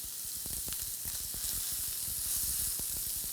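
Sirloin steak frying in a hot pan gives a loud, steady sizzle studded with quick crackles and pops, with no voices over it.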